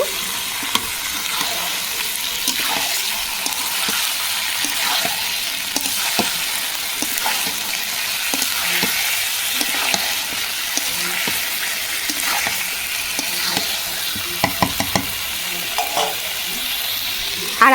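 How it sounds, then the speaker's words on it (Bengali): Meat fries with spice masala in a hot pan, a loud continuous sizzle broken by repeated scraping and stirring strokes throughout. No voices are heard. "মশলাটা ভালোভাবে মাংসের সাথে মিশিয়ে নেব"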